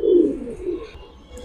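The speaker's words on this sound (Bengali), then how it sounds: "দুইটা কবুতরই ফুল ফ্রেশ" A pair of pigeons coos close by, with soft, throaty low calls rising and falling over about a second and a half, clear and without talk.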